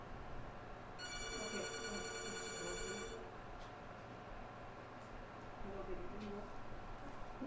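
A telephone rings on a call-in line for a televised bingo show, a steady electronic trill lasting about two seconds over a constant background hum and hiss.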